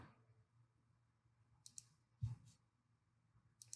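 Sharp clicks from buttons pressed on a lighting control console, a few quick presses in pairs near the mic over a low steady hum, with soft talk nearby.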